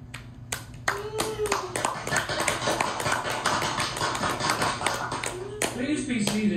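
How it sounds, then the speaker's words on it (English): An audience claps for puppets at a Christmas campus puppet show, a dense steady round of applause lasting several seconds with sharp individual hand claps standing out, and faint voices underneath. "Give our puppets a big round of applause."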